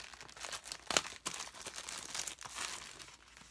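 Crinkling and tearing of plastic packaging as a hair straightening iron is unwrapped, a close, continuous rustle with sharper rips and crunches throughout, no talking.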